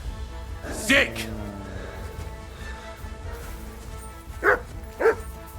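Dog barks in Kingdom Come Deliverance 2: one sharp bark near the start, then two more spaced barks close together near the end, over a steady game background with a voice talking.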